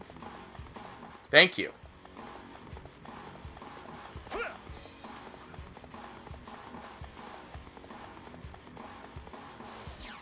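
Steady clip-clop of horse hooves from Dynasty Warriors 4, a rhythmic trotting beat running throughout with a louder sharp effect early on, under a brief spoken voice.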